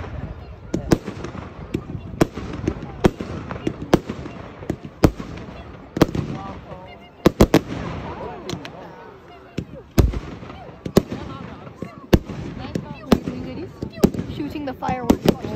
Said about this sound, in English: fireworks gorgeous.